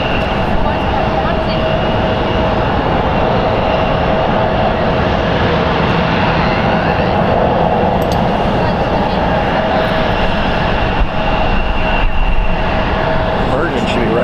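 Virgin airliner passing overhead near San Francisco International Airport, a loud, steady jet roar filling the whole stretch without fading, with no speech.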